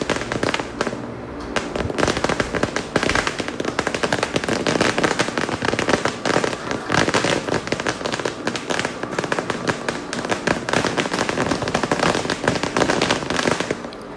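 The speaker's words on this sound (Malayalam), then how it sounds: "രണ്ടായിരത്തിൻ്റെ പടക്കമാണ് ആ പൊട്ടിയത്" A long chain of firecrackers bursting during Vishu night celebrations, dense rapid cracks and pops running continuously and loudly for the whole stretch, with no voices over it.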